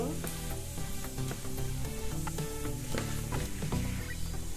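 Five-spice tempering fries in a pan for a pickle of amla, a soft but steady sizzle and crackle heard close, with light stirring and no talk.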